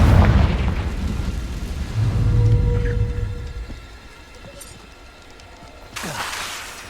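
A Confringo fire spell explodes in Hogwarts Legacy with a deep, rumbling boom that swells and fades over several seconds, followed later by a sharper burst.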